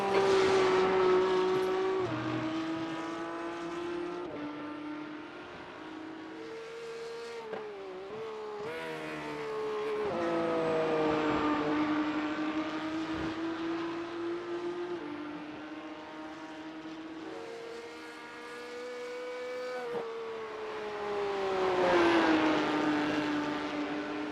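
A Porsche Cup race car laps Oulton Park in practice, its engine screaming continuously and rising and falling through gear changes and corners, loud and close with no talk.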